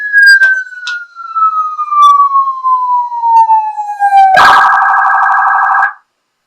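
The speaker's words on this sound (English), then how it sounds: "So I'm going to go ahead and click on siren here." A loud electronic siren tone from a DJI Mavic 2 Enterprise drone loudspeaker, played indoors, sweeps slowly downward, then switches abruptly to a harsh, rapidly pulsing wail that holds for about a second and a half before cutting off.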